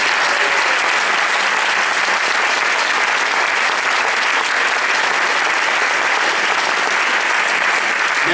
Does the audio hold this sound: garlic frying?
no